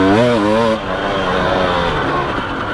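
A 2017 KTM 300 XC dirt bike's two-stroke engine revs sharply up close, a rising buzzy whine that cuts off into a rougher, lower running drone as the rider pulls away on the trail.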